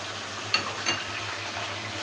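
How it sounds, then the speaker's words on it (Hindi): Onions browned golden in a pan, frying with freshly added ginger garlic paste for an aloo chicken salan: a soft, steady sizzle with a couple of light utensil clinks, fairly quiet and without talk. "अदरक लहसुन का पेस्ट शामिल करने के बाद इसको हम 2-3 मिनट के लिए भूनेंगे।"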